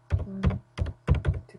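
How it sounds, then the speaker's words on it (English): Typing on a computer keyboard, four short bursts of close, soft key clicks with brief pauses between them. "I'm going to be lazy and just type in text"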